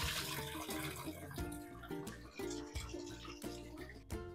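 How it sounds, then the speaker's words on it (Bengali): Water splashes and runs as raw chicken pieces for biryani are washed by hand in a bowl, a busy, continuous sloshing with clattering pauses heard close up. "মাংসটাকে আমি একবার কি দুবার ধুয়ে নিচ্ছি"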